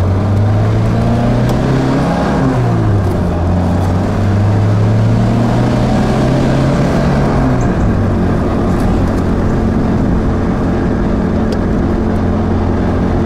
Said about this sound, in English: Lancia Fiat motor loves revving.